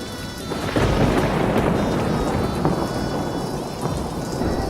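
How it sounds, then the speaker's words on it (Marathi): Heavy rain pours down continuously while deep thunder rumbles and rolls through, loud and enveloping, with no voices. "अरे देवा आता पाऊस येते पुरे घर गळणार"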